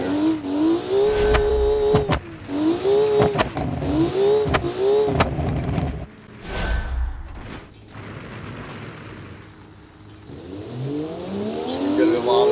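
A race car on a track revs hard through repeated rising engine sweeps, loud and close, with gear changes and a thumping impact from a ramp, then fades to lower rumble as it pulls away while a commentator talks.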